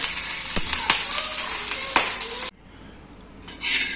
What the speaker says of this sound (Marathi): काही मिरच्या घेतल्या मी थोड्या लसणाच्या पाकड्या आणि थोडस तेल यामध्ये घालून हे छान आपल्याला भाजून घ्यायचं